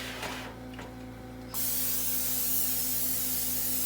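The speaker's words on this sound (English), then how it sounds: "we're going to spray my cookie sheet, or Delmer's going to, lightly." A continuous aerosol cooking spray hisses up loudly onto a cookie sheet and holds steady for over two seconds, following a quieter start with a few faint clicks and hum.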